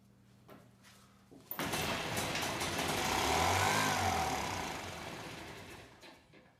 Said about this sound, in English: So for now, this will just be a test of the engine.